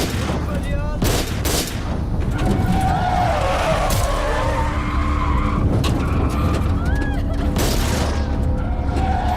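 Tires skid and screech as a bus loses control during a hijacking, long squealing tones under loud chaotic noise, sharp bangs and shouting voices.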